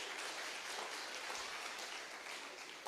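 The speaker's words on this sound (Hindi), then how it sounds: "ताली बजाओ मेरी बहनों के लिए।" Applause from a church congregation at a sermon, a steady, even wash of clapping held at a low level throughout with no voices over it.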